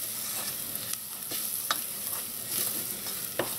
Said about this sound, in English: So just let that saffron toast up a little bit in there.